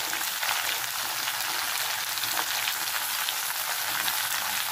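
Pumpkin frying in a pan for a pui shak chorchori: an even, close crackling sizzle that holds steady throughout with no talking.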